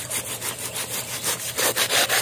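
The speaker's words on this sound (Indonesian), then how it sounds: "baru ya ini pakai gergaji besi saya" A hacksaw cuts through a celery plant to split it in two, giving quick, close, rasping back-and-forth strokes in a steady rhythm with no talking.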